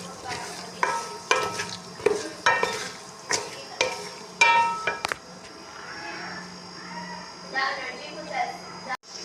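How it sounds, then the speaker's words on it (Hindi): Potatoes being stirred into fried masala in a pan, with repeated scraping strokes and sizzling close by, a voice talking over the cooking. "अब हम इसमें डालेंगे आलू, इसको अच्छी तरह से करेंगे मिक्स"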